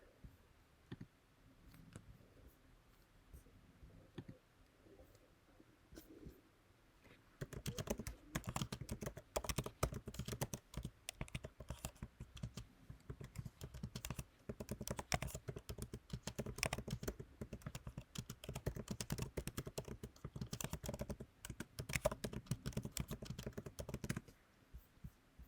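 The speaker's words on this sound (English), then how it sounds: "if you guys can hear my keyboard." Computer keyboard being typed on during a live editing stream, quiet at first, then dense rapid clicking keystrokes close by that run continuously for most of the stretch, with no talking.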